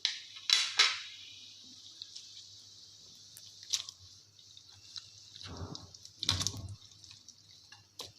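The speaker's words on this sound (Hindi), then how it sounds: "अब हम इसमें चिकन ऐड करेंगे।" Wet splashes and plops as chicken pieces drop into a pot of water for yakhni pulao, a few distinct bursts with soft clinks of a pan in between, close by.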